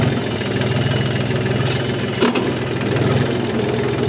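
A new Mahindra 265 tractor held at 2000 RPM with a spring-type nine-tine cultivator, its diesel engine a loud, steady, low-pitched drone with a brief knock partway through.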